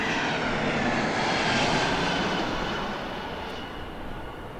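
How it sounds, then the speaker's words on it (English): A Delta airliner roars down the runway on takeoff at Las Vegas at sunset, a loud broadband jet rumble that fills the scene and slowly fades as the aircraft moves away. "There goes that Delta flight I was telling you guys about."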